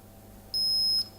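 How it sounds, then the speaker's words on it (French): A Xiaomi Leravan massager gives a single short, high electronic beep lasting about half a second, clear and close against a faint low hum. "il y a un petit bip, et vous voyez, donc un petit voyant vert qui s'est allumé"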